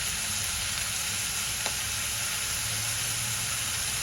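Onion sautéing with a little salt in a pan for dhaba-style paneer bhurji, a steady soft sizzle and hiss throughout with one faint tap, no talking.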